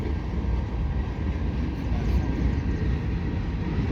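A westbound CN freight train with five locomotives rumbles steadily across the Lachine Canal bridge, a loud, continuous low roar of engines and rolling cars with no break from start to finish.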